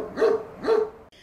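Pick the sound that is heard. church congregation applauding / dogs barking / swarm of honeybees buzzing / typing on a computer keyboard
dogs barking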